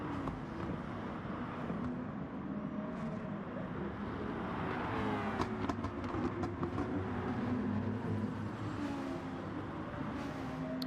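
Mazda RX Vision race car in Gran Turismo 7 roaring steadily through a race, its engine note rising and falling with gear changes and a sustained drone throughout.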